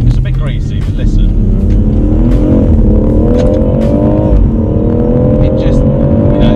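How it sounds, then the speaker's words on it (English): A car engine pulls hard under acceleration, a loud, throaty note that climbs steadily in pitch with brief dips at gear changes, while someone talks over it from inside the cabin. "there's something about the note of this car that I absolutely love."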